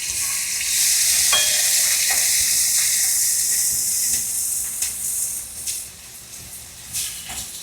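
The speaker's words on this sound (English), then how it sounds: "once your pan starts to sizzle there with your test piece, I'm going to go ahead and get these in" Food for a chopped cheese sandwich lands in a hot pan on high heat and sizzles loudly and steadily. A few utensil clicks and scrapes break through, and the sizzle eases slightly toward the end.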